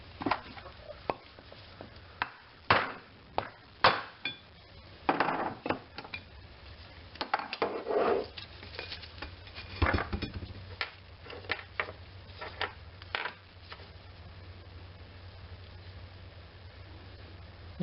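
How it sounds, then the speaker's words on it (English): A socket is tapped with sharp metallic knocks to drive the grease seal out of a camping trailer wheel hub. The blows come in irregular bursts, close and distinct over a quiet background. "It'll fit right on those two washers, and then just tap the seal out."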